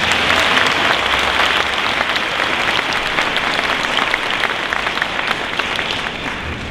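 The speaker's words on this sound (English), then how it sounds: "Let's give him another round of applause" Loud, sustained applause from a commencement ceremony audience, many hands clapping densely and evenly throughout, close and full, tapering slightly at the end.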